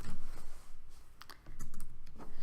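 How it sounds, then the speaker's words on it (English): Keys on a computer keyboard clack in two quick bursts of typing, close and fairly quiet, with a brief pause between them. "I'm going to type apple."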